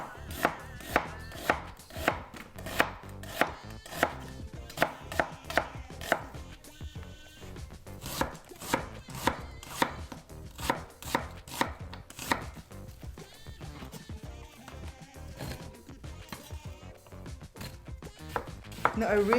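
Onions sliced with a knife on a cutting board for Filipino garlic pork steak, a rapid, even run of sharp chopping taps close by, steady for the whole stretch.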